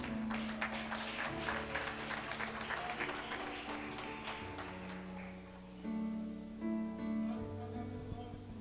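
A church congregation applauds at an Assembly of God family service, a dense, steady wash of clapping that runs for several seconds over sustained keyboard and music tones.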